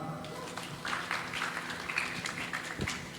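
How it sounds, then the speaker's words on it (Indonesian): Audience applause at a graphic design training session in a meeting hall, a steady crowd clapping of moderate loudness lasting a few seconds with scattered sharper claps. "Tepuk tangan."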